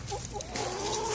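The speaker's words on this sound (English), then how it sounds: "Baby chickens." Young chicks and hens peep and cluck steadily close by while being fed, a busy overlapping chorus of small bird calls with no talking.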